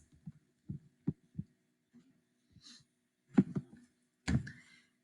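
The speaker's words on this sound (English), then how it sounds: "The beating of your heart and your quickened breaths are the only sounds that register." A heartbeat sound effect of soft, low thumps in irregular clusters, with faint breathy noise between beats, close and quiet against silence.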